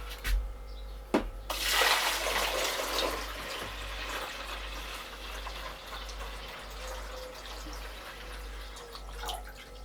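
Water is poured from a saucepan into the reservoir of a countertop ice maker, a splashing, trickling pour that starts after a couple of sharp knocks and then tapers to faint dribbling under a low hum.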